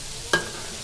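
Fried catfish being stirred and turned in a hot pan with dried chili, gives a single short scrape and clatter with a brief sizzle, then the pan settles back into a quiet low hiss.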